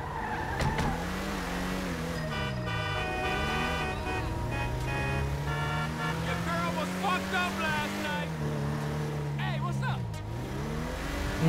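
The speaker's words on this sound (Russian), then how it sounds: "Пошёл моя тачка." A car drives in the video game GTA Online, its engine rising and falling in pitch through repeated revs and gear changes, loud and steady under a talking voice.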